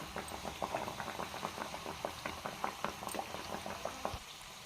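Millet flour boorelu frying in hot oil, a lively bubbling crackle with rhythmic pops, steady and close, no talking.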